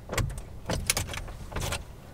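Car keys jangle in short metallic bursts near a car door, several brief clusters of clinks spaced irregularly, close and fairly loud, with no talking.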